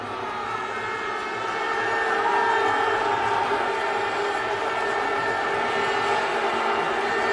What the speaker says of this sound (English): Crowd responds again.